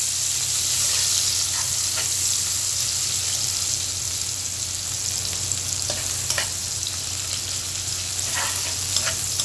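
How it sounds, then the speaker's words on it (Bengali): Chopped onions, two medium ones, frying in hot oil in a pan for a cauliflower and fish curry, giving a steady loud sizzle with faint scraping stirs, alone. "তো তেলটা একটু ভালো করে আসার পরে আমি এতে পেঁয়াজের কুচিগুলো দিয়ে দিচ্ছি।"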